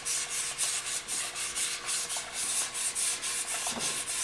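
A guitar body is sanded by hand with 150-grit sandpaper in steady, rhythmic back-and-forth strokes. The scratchy rubbing stays close and even throughout, with no talking.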